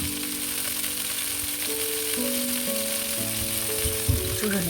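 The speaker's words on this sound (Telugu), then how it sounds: "ఈ రకంగా టెక్స్చర్ వచ్చే వరకు ఫ్రై చేసుకుంటున్నారండి." Chicken drumsticks fry in malai on a hot tawa with a continuous sizzle, and a few faint scrapes of a spatula sound near the end.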